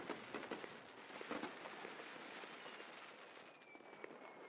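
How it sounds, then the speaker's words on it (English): Fireworks crackle and pop outdoors in Brooklyn on July 3rd, faint and distant, with a few sharper bursts early and a steady scattered crackling that continues throughout. "We have fireworks going off."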